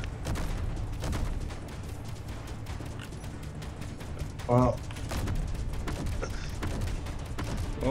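Rapid gunfire crackles throughout a Space Engineers battle with armed pickup trucks, with a brief louder burst near the middle; someone speaks briefly over the shooting.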